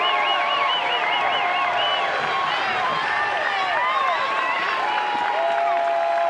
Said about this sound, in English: As the crowd gets to its feet.